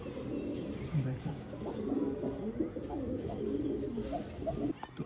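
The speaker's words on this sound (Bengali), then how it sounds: "এইখানে একটা মাদি কবুতর আছে" Several pigeons coo repeatedly in soft, low rolling calls, close by and overlapping, over faint background noise.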